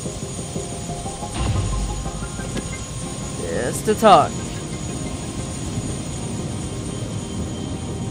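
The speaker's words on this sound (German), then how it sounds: "Und da ist schon der Helikopter." A helicopter waits on a rooftop in the video game Prey, its engine whirring steadily while a voice talks over it and short game effects rise briefly in the middle.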